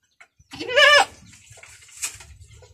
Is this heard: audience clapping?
no